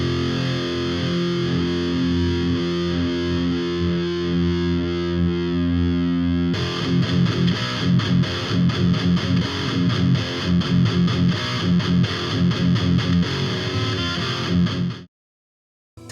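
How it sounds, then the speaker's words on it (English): Electric guitar played through a distorted amp, captured by a condenser and a dynamic microphone together; sustained chords ring for several seconds, then a denser, choppier strummed section follows, loud and alone, before cutting to silence. "I've got two microphones set up on a guitar amp, one condenser and one dynamic."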